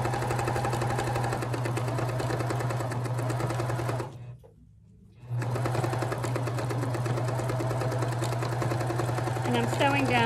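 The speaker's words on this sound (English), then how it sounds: "I'm going to start sewing. I'm going to make sure I do a little back stitch here." A sewing machine runs steadily while stitching fabric strips for a dish drying mat, with a humming buzz that stops briefly midway and then resumes at the same even pace.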